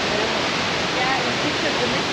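Waterfalls rush with a dense, constant roar of falling water, loud and near, an unbroken wash of noise with no other sounds standing out.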